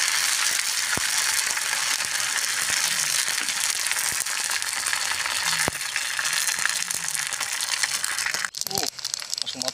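Crispy monitor lizard skin fries in hot oil, a dense, loud, continuous sizzle with crackling and a few sharp clicks, ending with some stirring clatter.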